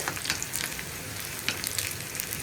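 Four dried red chilies fry in hot oil in a pan for a payar soya curry, giving a continuous close crackling sizzle with scattered sharper pops and no talk.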